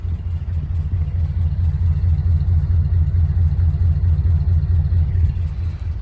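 The engine of a 1951 Ford idles steadily after a fuel pump push rod repair, a low, even rumble with a regular throb, close up and alone.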